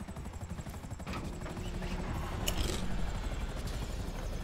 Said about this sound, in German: ich hab fast noch der Rotor vom Helikopter erwischt